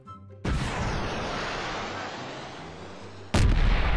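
HIMARS rocket artillery launching in the Garry's Mod sandbox game: a sudden loud blast opens into a long, roaring, echoing rush, then a second sharp boom strikes near the end, with no talk over it.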